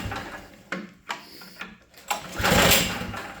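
A small engine gets a pull-start attempt, with a few short rattling cord tugs followed by a louder, longer burst of mechanical noise near the end, all close by.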